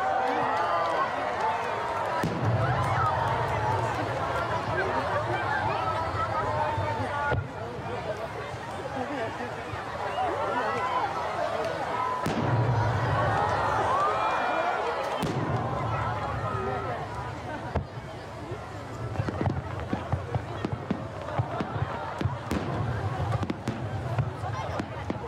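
Fireworks launch and burst repeatedly in Japan, thuds and crackles echoing across a wide open space, with a crowd murmuring and chattering throughout.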